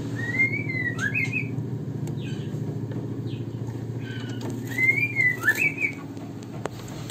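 Squeaky, chirping calls of white-rumped shama chicks come in short bursts over a steady low hum, with a pause between the two clusters.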